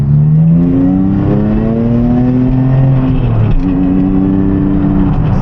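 Porsche 911 996 Turbo with straight-pipe exhaust droning loudly and steadily from inside the cabin, a deep sustained tone whose pitch climbs and settles as the engine pulls, with no talking.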